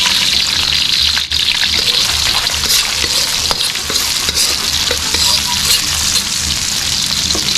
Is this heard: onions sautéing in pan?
yes